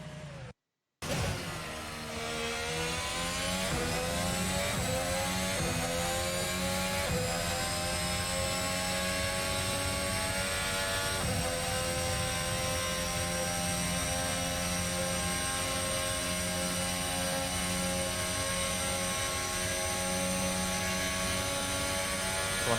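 An F1 car engine in a video game screams through a Baku qualifying lap on soft tyres in qualifying hybrid mode, holding a sustained high-pitched whine that rises after a brief cut and then stays loud and steady.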